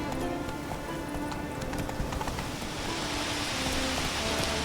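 Roach, Geralt's horse in The Witcher 3, gallops with rapid, rhythmic clip-clopping hooves that carry on steadily throughout over a rain-like wash of ambient noise, with no speech.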